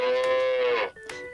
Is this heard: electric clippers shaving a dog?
no